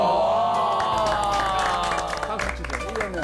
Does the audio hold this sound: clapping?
yes